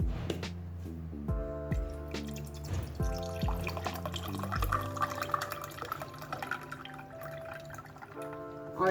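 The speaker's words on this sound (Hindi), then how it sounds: "ठंडा पानी डालूंगी" Cold water poured into a glass of raw mango sharbat with ice cubes, a steady close splashing and trickling that runs for several seconds while cubes clink faintly, no voices.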